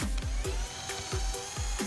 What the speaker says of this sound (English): So when I drill,